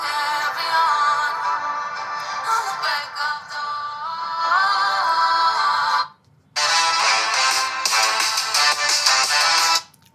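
An Infinix Note 50 Pro plays its ringtone through its own speaker at full volume, a loud bright repeating melodic tone close by that cuts out briefly and then resumes, with no talking.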